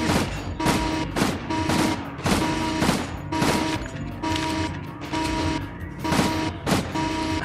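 Paired guns firing at once in The Stalin Subway video game, loud close bursts repeating in a steady rhythm about every half second, with mechanical clatter between the shots and no talking.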